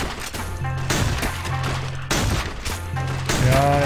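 Rapid bursts of gunfire in the video game Blade & Soul crackle over a steady low music bed, with repeated volleys and a few heavier blasts, loud and close.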